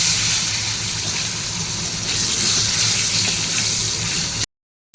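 Pieces of pointed gourd frying in hot oil in a home kitchen, a steady, close, broadband sizzle that holds even throughout before a brief dropout at the end.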